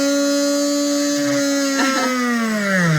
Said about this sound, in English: We're just gonna get the big drill and drill right in the middle for a pulley.